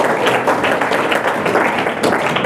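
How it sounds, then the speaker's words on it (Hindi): A classroom of school students clapping steadily for a classmate, a dense continuous round of applause that stays loud throughout. "ताली बजा दो आप इनके लिए"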